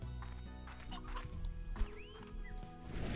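Rock hens from the video game Slime Rancher cluck over a layer of game music and ambience, with a few short, scattered hen calls rising throughout.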